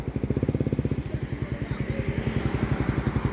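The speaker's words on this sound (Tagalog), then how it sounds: "Tahimik pa yung andar, wala siyang lagitik, wala rin siyang kalampag." Motorcycle engine idling smoothly and quietly with no rattling or knocking, a steady even putter of rapid regular pulses, close up and continuous throughout.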